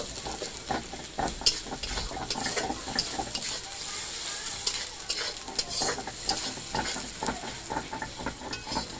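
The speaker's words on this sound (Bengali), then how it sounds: "নুন ভালো করে মশলাটা এবার কষিয়ে নেবো" Spice paste for a fish-head mun pahari dish sizzles steadily as it is sautéed in a kadai, with frequent scraping stir strokes of a spatula throughout; no one talks.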